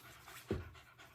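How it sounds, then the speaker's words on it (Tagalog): A four-month-old puppy pants close by, giving a short burst of quick breathy huffs with one louder gasp in the middle, quiet and without talk over it. "Ito yung aso ko,"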